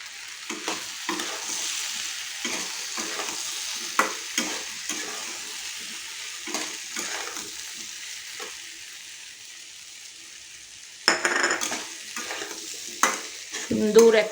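Ground coriander and fennel spice mix is stirred into a mango and jaggery pickle in a pan, with repeated scraping strokes over a soft sizzle and a louder clatter near the end.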